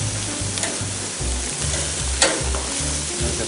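Wild boar steaks and vegetables sizzle loudly in a cast iron pan, a close, continuous frying hiss with rhythmic stirring and one sharp clink.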